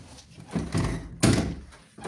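An anti-panic bar on a building door is pushed, but the door stays shut, giving several heavy thunks and rattles in an uneven sequence, close by with no voices.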